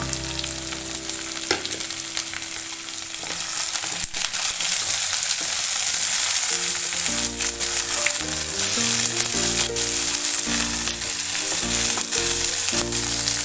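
Carrot and papaya pieces frying in a pot of chicken stew base, a steady bright sizzle with occasional stirring scrapes and clicks, close and continuous, with no talk.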